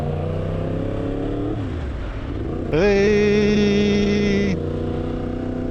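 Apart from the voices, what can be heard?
Yamaha MT-10 motorcycle engine revving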